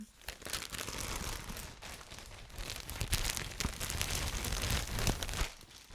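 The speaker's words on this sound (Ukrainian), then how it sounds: "Приїхала коробочка з Cult Beauty, давайте її розпаковувати." A cosmetic bag packed in a plastic bag is unwrapped from a Cult Beauty box, giving close, continuous crinkling and rustling of the plastic, fairly quiet and without speech.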